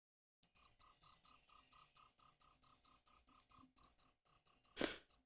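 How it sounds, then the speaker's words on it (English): Crickets chirping in a steady, evenly spaced series of bright pulses, clear and close with nothing else behind them, played as a sound effect, ending in a brief noisy rustle. "That's crickets chirping because we got diddly squat"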